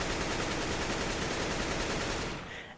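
Automatic AK rifle fire in CS:GO, a rapid, continuous burst of loud gunshots running steadily for over two seconds before cutting off abruptly.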